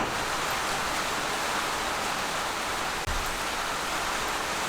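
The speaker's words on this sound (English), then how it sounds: "We got rain." Steady, dense rain hiss fills the whole stretch, a continuous wash of falling water with one brief dip near the end; no voices.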